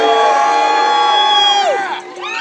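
Concert crowd after a band's set cheering, whooping and yelling together in a loud, sustained roar that dips briefly near the end, heard close up.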